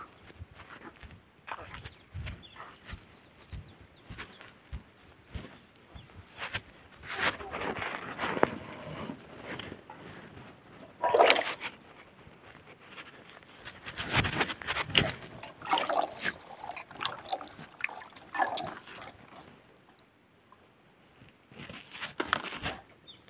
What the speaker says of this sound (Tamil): தண்ணியில் கொட்டி அலாசி எடுத்துக்கலாம்